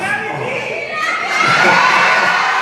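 A large concert audience at a show in Charlotte, North Carolina roars and cheers loudly and continuously, a dense wall of shouting voices that swells slightly partway through.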